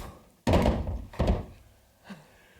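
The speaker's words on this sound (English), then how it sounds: "a loud thud echoes from deeper within the hallway" Two loud, heavy thuds land about a second apart in an empty hallway, each with a boomy low end and a short echoing tail, followed by a fainter knock.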